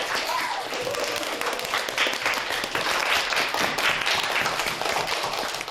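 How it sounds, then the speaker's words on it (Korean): Students in a robot software class applaud one another, a dense, lively round of clapping with a few louder surges, heard fairly close with faint voices mixed underneath. "서로 위로의 박수, 힘찬 응원의 박수"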